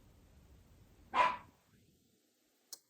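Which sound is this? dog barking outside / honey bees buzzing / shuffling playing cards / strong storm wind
dog barking outside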